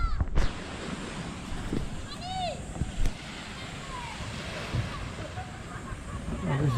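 Ocean surf rolls onto Senggigi beach, Lombok, a continuous wash of waves under wind, with brief chirps and faint distant voices.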